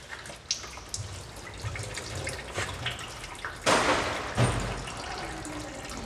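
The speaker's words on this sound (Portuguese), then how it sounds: "Deixa escorrer esse óleo aí, ó." Engine oil runs out of a truck after its oil filter is loosened, a steady liquid trickle with scattered drips and a couple of louder splashes, close by.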